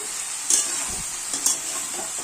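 Pointed gourd and potato stir-fried with a large tomato in a pan, steady close sizzling with two brief scraping strokes of the spatula.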